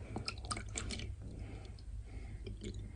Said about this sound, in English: So we are going to put water in it.